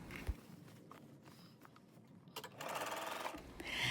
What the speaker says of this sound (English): I then top stitched all the way around at a 1/4 inch seam allowance.